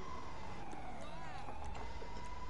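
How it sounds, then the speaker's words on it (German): A police car siren in the video game GTA V wails steadily at low volume, its rising and falling tone running continuously over a car engine hum. "Ich hab ein Polizeiauto."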